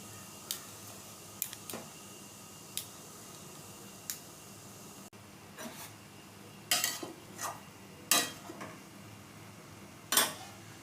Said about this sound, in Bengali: এবার আমগুলো দিয়ে দিচ্ছি একটা একটা করে।